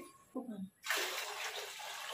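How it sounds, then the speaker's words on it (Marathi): After a brief murmur of speech, water is poured into a cooking pot in a steady, close rushing stream that fills the rest of the short moment. "तर या पातेल्यामध्ये मी आता 2 तांबे पाणी टाकले"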